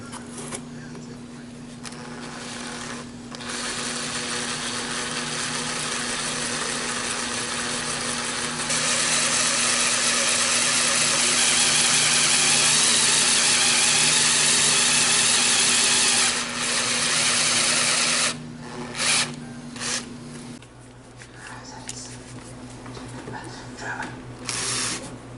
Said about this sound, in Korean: 이제 좀 큰 걸로 구멍을 좀 뚫으면 되겠죠